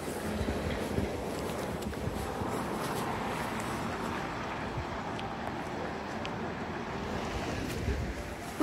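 Steady wind gusting across a frozen lake in Canada, a continuous broadband rush with faint low rumbles from wind buffeting the microphone, holding level for the whole stretch with no voices.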